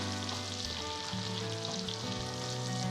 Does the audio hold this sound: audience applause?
no